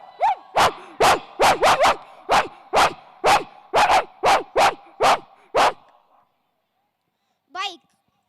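A voice imitates a dog barking on a stage, about a dozen sharp woofs in a quick uneven run, loud and close, then a pause and one short whimpering yelp.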